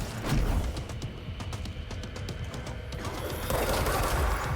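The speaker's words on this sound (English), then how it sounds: "This is the shockwave attack. How do you not take damage from that?" A shockwave attack in the video game Control, a loud sustained crackling barrage of explosive bursts and rumble that swells louder near the end, with no talking over it.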